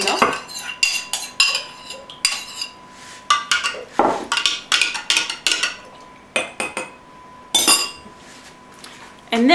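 A spoon clinks and scrapes against a bowl while stirring yogurt into milk for homemade yogurt, with irregular bright metallic taps and stirs, close and fairly loud.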